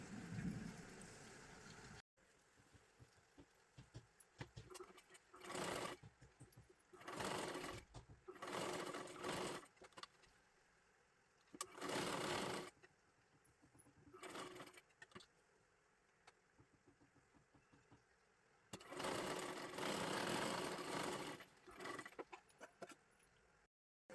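Sewing machine stitching a blouse piece: several loud, close bursts of rapid mechanical whirring, each a few seconds long, separated by quieter pauses with faint background noise.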